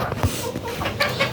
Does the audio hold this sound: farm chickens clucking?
yes